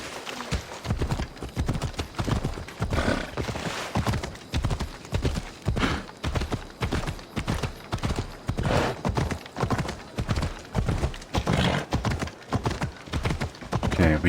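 Rapid, steady clip-clop of a horse's galloping hooves in Assassin's Creed Odyssey, loud and close, continuing throughout with an occasional whinny and some voices underneath.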